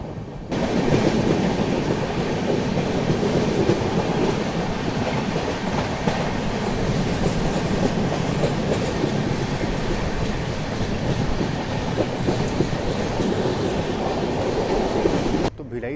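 Bilaspur Rajdhani Express passenger train running along the rails, heard from on board: a loud, continuous rumble and rattle with rhythmic clickety-clack of wheels, steady throughout.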